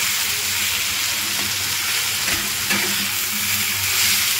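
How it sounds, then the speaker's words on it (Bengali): Cauliflower with spices stirred in a frying pan over low heat: a steady close sizzle with soft scraping strokes of the spoon, running continuously without talk. "এবং মশলাগুলো দিয়ে ভালো করে আমি এবার নাড়াচাড়া করে নেব।"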